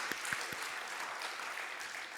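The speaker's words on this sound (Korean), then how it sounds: "다시 한번 우리 제2권사의 사랑과 격려의 박수 부탁드립니다" A church congregation at a Wednesday worship service claps briefly, a soft spread of hands with a few distinct early claps, fairly distant and moderate in level.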